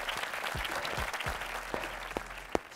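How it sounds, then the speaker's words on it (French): A small family group applauding together at close range, a few pairs of hands clapping in a loose, moderate patter with some sharper individual claps toward the end, no speech. "On peut venir s'applaudir"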